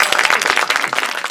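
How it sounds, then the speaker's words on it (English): Live audience at an improv comedy show bursting into loud, close applause, dense rapid clapping throughout the short moment. "please give a round of applause"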